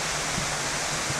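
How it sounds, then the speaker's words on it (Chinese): A big waterfall on a South Lantau hiking trail in Hong Kong pours down in a steady, dense broadband roar that fills the whole moment evenly, with no voices over it. "大瀑布，一直落啊！"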